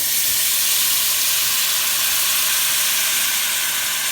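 Vegetable broth poured into a hot pan of vegan curry with potatoes gives a loud, steady, close hiss of sizzling and steam that holds evenly throughout, with no talking.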